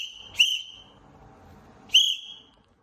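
Two sharp referee whistle blasts blown to signal a foul, about a second and a half apart, loud and close with nothing else heard around them.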